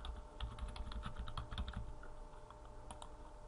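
Fingers tap steadily on a computer keyboard, a quick run of soft clicking keystrokes at close range, thinning to a few isolated presses toward the end.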